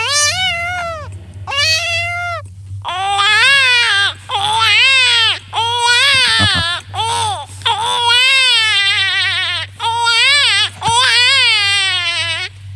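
A mimicry artist imitates a crying cat whose wails gradually turn into the sobbing cry of a small baby, in a long series of close, loud wavering cries with short breaths between them.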